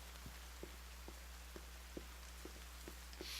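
Rain falls softly in the survival game The Forest, faint pattering drops ticking at an even, sparse pace over a constant low hum.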